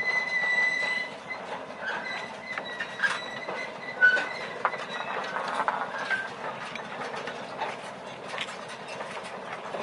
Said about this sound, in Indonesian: lokomotif mulai mendorong lori-lori kosong ini ke sisi jalur rel